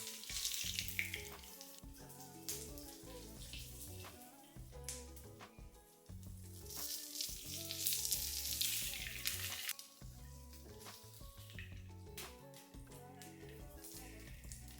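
Vietnamese banh khot mini pancakes sizzle and fry in a pan, a quiet, steady crackling hiss up close, with soft background music beneath.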